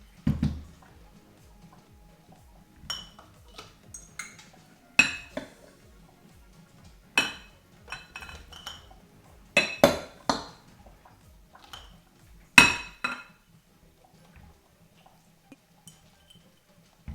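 Glass canning jars clink and tap as they are filled with hot beets for pressure canning: sparse, close, separate knocks and chinks spread unevenly across a quiet kitchen, with no talking.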